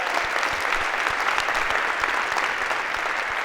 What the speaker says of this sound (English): Maybe a round of applause for...